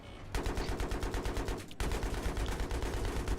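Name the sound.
gunfire in video game Battlefield 3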